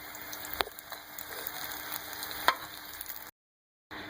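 Green chillies stuffed with gram flour and spices fry in hot oil, giving a faint, steady sizzle with a few sharp pops and clicks, before a short drop to silence and a brief return of sizzling.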